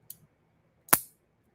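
A titanium lock bar on a folding knife snaps with a ceramic-on-steel lockup: a faint tick, then one sharp, loud click up close, alone in a quiet room.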